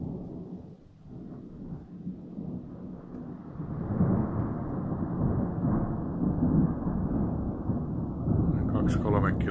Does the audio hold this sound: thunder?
yes